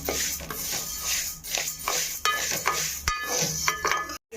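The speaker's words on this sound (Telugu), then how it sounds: "ఉలవల్ని స్టవ్ పై బాండి పెట్టుకొని స్టవ్ని సిమ్లో పెట్టుకొని దోరగా వేయించుకోవాలండి" Horse gram is dry-roasted in a pan over a low flame, the hard seeds rattling and scraping under a stirring spoon in a dense, steady shuffle close by, with no talking.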